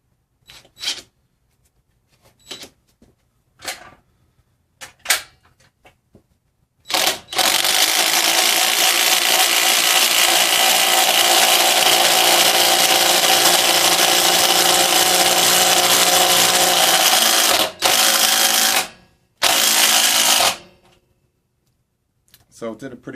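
DeWalt 20V Max DCF885 cordless impact driver sinking a lag bolt into wood: a loud, continuous hammering rattle runs for about ten seconds, then two short final bursts, with a few clicks and handling noises beforehand.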